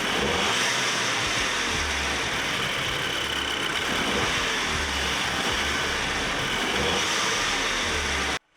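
Audi TT 2.0 TFSI with a RAMAIR air filter starting up, its engine settling into a steady, loud idle with light revving that runs continuously until it cuts off abruptly at the end.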